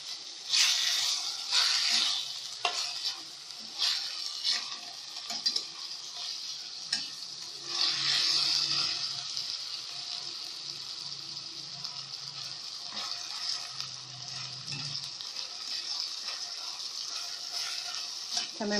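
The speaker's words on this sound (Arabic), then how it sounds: "هنزل عليها باللحمة بتاعتي واقلبها كده تقليبه." Meat sizzling and frying in a pan for an okra tagine, stirred with steady scraping throughout, a close, continuous hiss with occasional louder bursts of sizzle and no talk.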